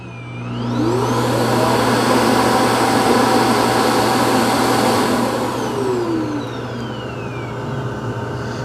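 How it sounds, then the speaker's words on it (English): An Ecovacs Deebot T30S robot vacuum docking station auto-emptying, a loud close whooshing suction with a whining motor that rises in pitch, holds steady, then tapers slightly with no talking. "Here's the auto empty."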